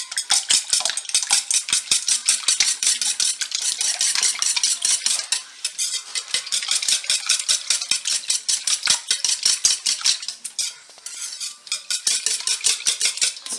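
Eggs beaten with a whisk in a bowl for an egg bake, rapid continuous metallic clicking and scraping against the bowl, close and steady with a few brief pauses.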